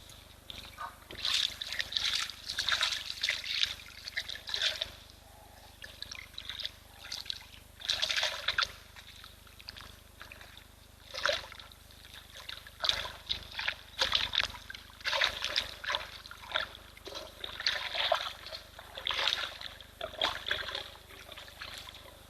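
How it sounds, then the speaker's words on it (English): Animal splashing in a waterhole at a wildlife viewing site, likely a rhino, with repeated irregular splashes and water sloshing in bursts at moderate distance throughout. "Can hear someone splishing and splashing in the water."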